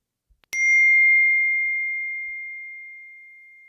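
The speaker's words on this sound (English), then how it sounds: "she has such an aggressive notification tone" A single sharp phone notification chime rings out loud and clear after two faint taps, its pure tone ringing on and slowly fading over several seconds in a screen recording.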